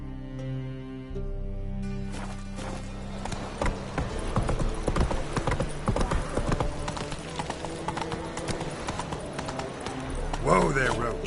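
Roach the horse's hoofbeats in The Witcher 3 clop steadily at close range, a rhythmic run of hard strikes over game music, with voices talking across them.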